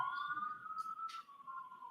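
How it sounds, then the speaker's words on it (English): A faint, steady siren tone wails in the distance, thin and far off, with a couple of brief noise bursts over it. "Sirens go further away"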